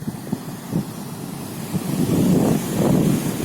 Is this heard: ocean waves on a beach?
yes